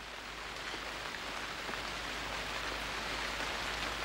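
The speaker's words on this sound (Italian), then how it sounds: "Angelo, te lo dicevo che la pioggia veniva!" Steady rain falls outdoors as a dense, even hiss of drops on surfaces, with a constant low rumble beneath and no voices.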